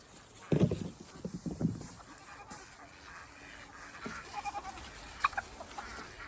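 Chickens clucking nearby in a few short bursts, with scattered clucks and faint rustling afterward.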